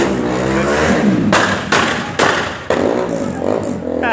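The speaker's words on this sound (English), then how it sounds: "a lot of motorcycles are coming by" Several motorcycles with loud exhaust pass close by, a chain of sharp revving bursts rising and cutting off one after another, loud and near, with no speech over them.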